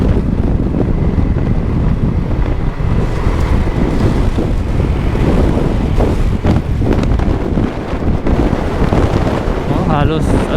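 Heavy wind buffets the microphone without a break, a loud roaring rush with an engine droning underneath while riding fast on a Kymco GD 300 scooter.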